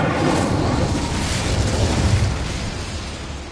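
Incendio fire spell being cast in Hogwarts Legacy: a steady, loud, roaring whoosh of flame that fills the whole clip and fades slightly toward the end.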